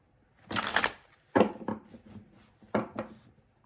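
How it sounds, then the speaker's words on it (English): Tarot cards are riffled and shuffled in several quick bursts, crisp papery flutters separated by short pauses, close up and without talk. "3 more shuffles for Scorpio."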